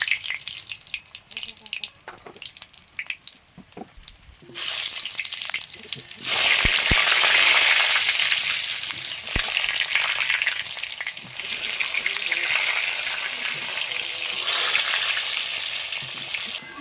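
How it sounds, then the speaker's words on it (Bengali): Potatoes for a meat curry fry in mustard oil in a new wok in an outdoor kitchen, a loud, continuous sizzle that surges as they go in after a quieter stretch, with occasional clinks of stirring. "মাংসের আলুগুলো ভাজবো এখন"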